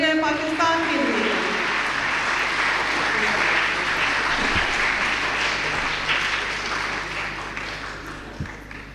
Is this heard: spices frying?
no